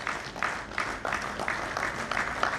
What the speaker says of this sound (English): Please give him a big clap to make this conference a success.